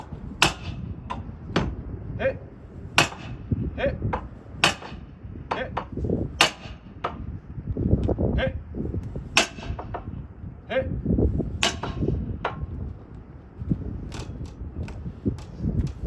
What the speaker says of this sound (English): With our tool, with our forks, we continue to drive in at the same angle